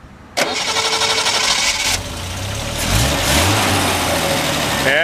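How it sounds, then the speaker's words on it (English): A 1971 Triumph TR6 engine cranks and catches abruptly, then settles into a steady, close running idle with a couple of brief revs rising over it. "we're gonna fire this thing up and let you take a listen"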